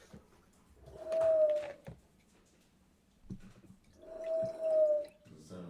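Pigeon cooing as a sound effect: two drawn-out, soft throaty coos separated by a short pause, moderately close over a faint background.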